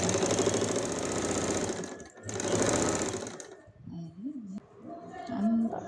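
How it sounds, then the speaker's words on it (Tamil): A sewing machine stitches the neck of a waistcoat with a fast, loud, continuous whirring run that pauses briefly and resumes, then stops as someone talks close by. "இப்போ நீங்கள் அப்படியே ஃபோல்ட் பண்ணி நெக் ஸ்டிச்"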